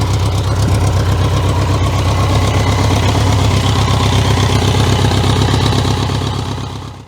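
A BMW K100 motorcycle engine idles while warming up, a steady, close, even low thrum with a fast regular pulse, holding constant for several seconds before fading out at the end.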